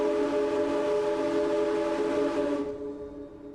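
The bronze single-chime ship whistle of the SS Morro Castle in a video game blows a loud, steady, sustained tone that holds for about two and a half seconds and then cuts off, leaving a faint tail.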